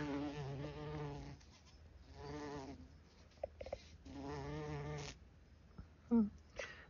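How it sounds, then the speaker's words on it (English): A bumblebee buzzes around Sweet William flowers in a home garden, close and moderately loud in three sustained drones separated by quieter pauses. "Oh, and a bumblebee."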